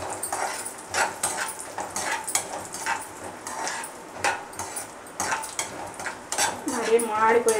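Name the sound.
frying almonds and cashews in a pan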